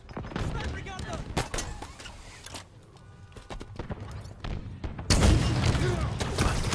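A grenade blast in Halo Infinite multiplayer erupts late as a heavy, sustained boom, following scattered gunfire and clatter, with a voice talking through the match.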